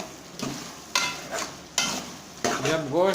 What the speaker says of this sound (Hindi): गोश्त को अच्छी तरीके से भूनना है इसमें पहले।